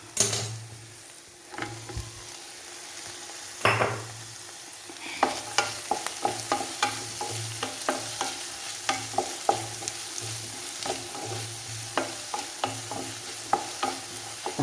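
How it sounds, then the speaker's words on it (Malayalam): Tomatoes sautéing with salt in a pan for sambar sizzle steadily while a utensil scrapes and taps the pan in a repeated stirring rhythm, close and with no talking. "ഇത് പെട്ടെന്ന് വഴന്ന് വരട്ടെ ഒരല്പം ഉപ്പും കൂടി ഇട്ട് കൊടുക്കാം നമുക്ക് തക്കാളിക്ക് ഇട്ട് കൊടുക്കാം"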